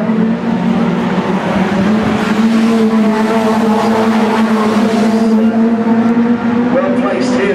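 Rookie rod race cars racing at Arlington in 2013: a loud, steady engine roar of several cars sustained throughout, with a race commentator talking over it.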